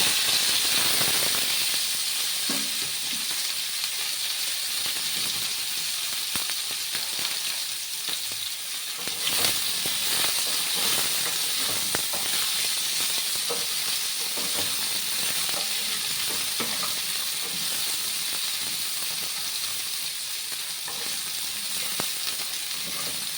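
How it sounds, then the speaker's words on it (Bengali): Potatoes fry in mustard oil in a pan with a continuous loud sizzle and steamy hiss, crackling steadily and evenly throughout with small pops and occasional stirring. "এবার আমি প্রথমে আলুগুলোকে একটু ভাজবো।"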